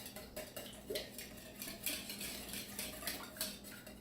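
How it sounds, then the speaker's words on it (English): A mixture is whisked in a bowl at a West Virginia ramp dinner, giving faint, quick rhythmic clinks and scrapes of a utensil against the bowl. "You just kind of whisk it up there"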